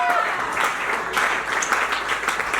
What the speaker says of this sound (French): Nous allons les applaudir